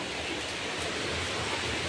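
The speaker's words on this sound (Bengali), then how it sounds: "ব্যাস শুরু হয়ে গেল আবার বৃষ্টি" Rain beginning to fall in a village by a pond, a dense, even hiss of drops that holds steady and fairly loud throughout, with no voices.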